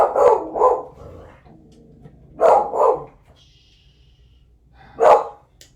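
A dog named Fezzik barks indoors in loud clusters, two quick barks, a pause, two more, then a single bark, close to the listener with quiet gaps between.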